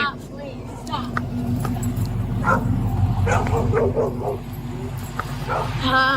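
A dog close by gives repeated barks, yips and whimpers in an agitated, uneven stream, with voices in the background.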